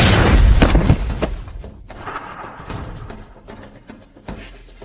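A single loud, booming gunshot from a dubbed action drama rings out at the start, followed by a short decaying echo and lower rumbles that fade over a few seconds.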